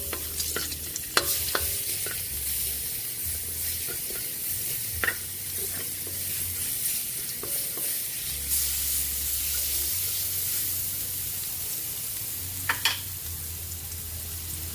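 Garlic sautéing in a pan for ginisang munggo, a steady close sizzle with occasional stirring scrapes and clinks.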